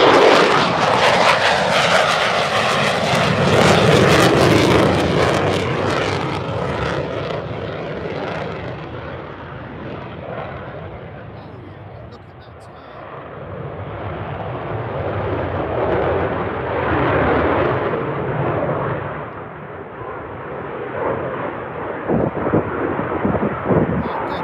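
An F-35 fighter jet aborts its landing at RAF Lakenheath and flies past, a loud roaring engine rumble that swells, eases, then builds again as the jet passes and climbs away.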